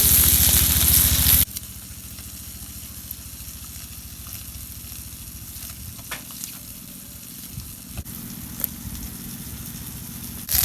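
Butter fish (bata) frying in hot oil in a home kitchen, a loud hiss for the first second and a half that drops to a low steady sizzle with faint crackles and a few soft knocks.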